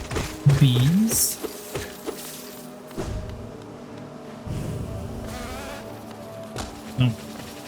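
Bees buzzing in the video game Hollow Knight, a short wavering drone rising in the first second amid thuds and game effects, with another brief buzz near the end.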